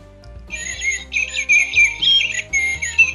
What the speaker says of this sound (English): cute little blackbird which sings actually